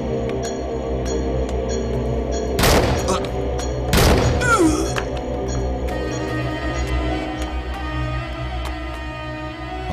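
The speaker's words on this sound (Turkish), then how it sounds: "Bir silah sesi duydunuz mu?" Two sharp, loud gunshots crack about a second apart over a steady indoor hum, each leaving a short ringing decay.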